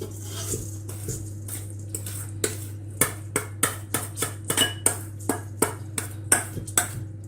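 Metal spoon clinks and pings against a big bowl while mixing filling for an almond peach pie, a rapid irregular series of sharp, bright taps, close by, over a steady low hum.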